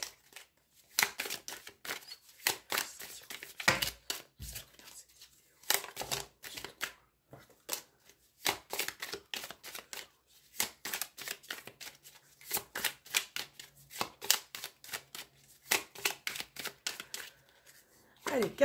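Oracle cards being shuffled and drawn, a long run of crisp riffling and flicking bursts, closely miked and fairly loud, with short pauses between handfuls and a card slapped down now and then.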